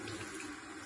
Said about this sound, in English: now the water is going to go down into the sink